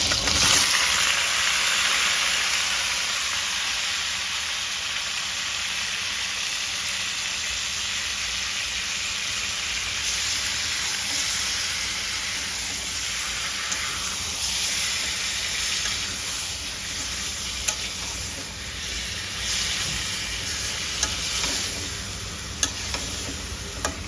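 Chicken for garlic chicken curry fries in a pan with a loud, continuous close-up sizzle and hiss, steady throughout with a few small ticks and pops near the end.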